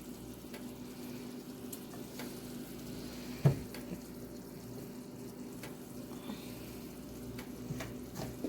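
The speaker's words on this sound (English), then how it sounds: "Then we're gonna add Some of our broccolini that's been seasoned with the salt and pepper." Broccolini seasoned with salt and pepper sizzles steadily in a hot pan, a continuous soft frying hiss with a single brief clatter partway through.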